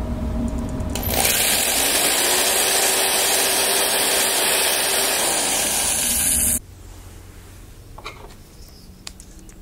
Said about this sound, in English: I will now drill a hole through the wooden lid to the Leyden jar